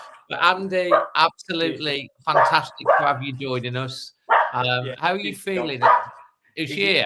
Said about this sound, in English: The dog's going mad for her arriving.